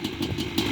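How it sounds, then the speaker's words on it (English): A Kawasaki KX250 two-stroke dirt bike with a freshly rebuilt top end and replated cylinder idles roughly while cold, a close, loud, steady engine note with a brief pulsing unevenness and no voices. "KX250, and I just started it."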